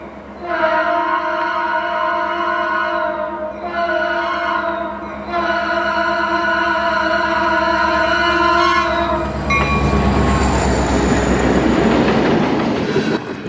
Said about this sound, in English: we're going to see a pair of CN-ST-75Is ripping around the corner just outside of Withrow, Minnesota